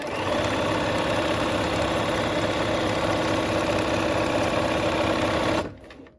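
Sewing machine stitching a quilt piece with a 1/4 inch presser foot, running at a steady rapid whir for about five seconds before stopping abruptly.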